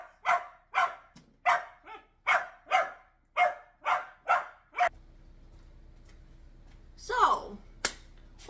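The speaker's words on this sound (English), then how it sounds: "I really hope my husband edits some of this barking out" A dog barks about nine times in a steady, rapid run, loud and close, then falls quiet apart from low hum and a brief squeaky noise near the end.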